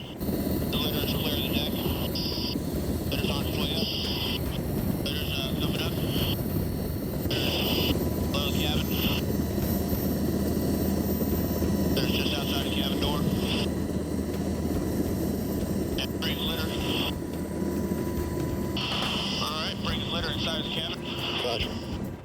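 A hovering Coast Guard helicopter thumps steadily during a rescue litter hoist in Alaska, its rotor and engine drone constant and close, overlaid by frequent speech and crackling radio chatter.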